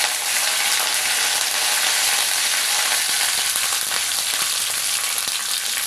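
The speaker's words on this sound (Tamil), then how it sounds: "புடலங்காய் பொரியலுக்கு தாளிக்க தேங்காய் எண்ணெய் எடுத்துக்கலாங்க" Urad dal, curry leaves and spices frying in coconut oil for a snake gourd stir-fry, a steady close sizzle with faint crackles and stirring, no voices.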